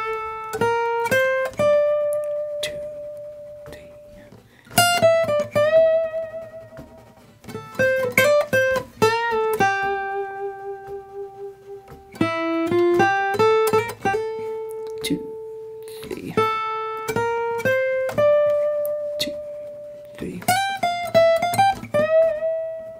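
Solo electric guitar plays the B section of a song, a clean, sustained lead melody in separate phrases with slides and held notes, close and moderately loud.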